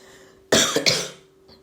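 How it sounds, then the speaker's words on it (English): A single short bout of coughing, two or three harsh throaty bursts close to the microphone, then quiet. "Can't shake this cough off."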